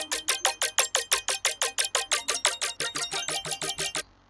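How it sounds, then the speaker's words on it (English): Synth chords played in a strum mode with the sidechain switched off, heard alone as a fast, even run of about eighteen bright, sharply attacked chord hits that stop abruptly near the end. "I'm playing some chords with like a strum mode in here"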